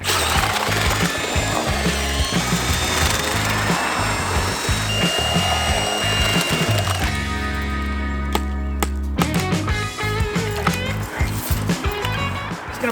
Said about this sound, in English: Don't forget to put your drill on low speed, high torque.